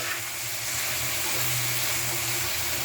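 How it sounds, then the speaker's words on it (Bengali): A pan of vegetables (tomato, cauliflower, carrot, capsicum, green chillies and onion) boiling, making a steady, fairly loud bubbling hiss that runs unbroken throughout, with no talking. "এই সিদ্ধ করতেছি"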